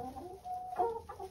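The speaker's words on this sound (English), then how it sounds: "we got five chickens" Five hens cluck softly in a short burst of low, throaty calls, a few overlapping, fairly close with a bit of background rustle.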